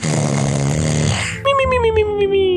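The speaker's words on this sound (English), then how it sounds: "I started to hear some snoring coming through the rock." Loud, drawn-out snoring with a rough, rattling texture, followed by a higher wheezy exhale that slides downward, heard through rock in Minecraft.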